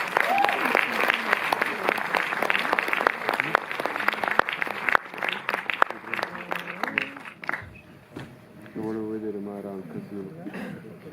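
Audience applause at a film festival awards ceremony in Montreuil, sustained clapping for several seconds that tapers off, after which a person starts talking.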